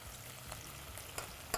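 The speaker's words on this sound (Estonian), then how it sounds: "me ei hakka neid nii-öelda röstima, vaid lihtsalt praeme nad klaasjaks" Onions sizzle gently in a pan with rosemary and thyme, cooked just until glassy rather than browned, a soft steady frying hiss with a few faint stirring clicks and no talk.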